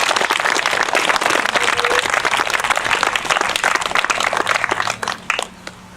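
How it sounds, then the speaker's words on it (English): Round of applause at a sports presentation, many hands clapping loudly with individual claps audible, holding strong before thinning out and fading near the end. "So a round of applause."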